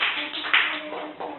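Children in a Hindi letter-learning activity clap for a classmate, a short burst of light, brisk clapping with a sharper accent midway, heard through a narrow, band-limited recording.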